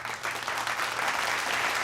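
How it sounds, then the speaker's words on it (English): Audience applause from a seated group, a steady dense patter of many hands clapping at moderate volume, sustained without pause and with no voices on top. "Let's give her a round of applause for being this brave soul"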